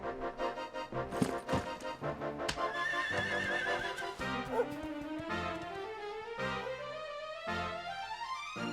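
Horse from the video game Dragon Quest XI neighing in a long whinny over upbeat orchestral game music, with a few hoof clops; the music carries throughout.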